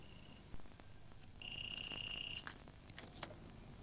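A telephone rings in a quiet room at night, a steady electronic trill lasting about a second, with faint clicks and rustles around it and no voices.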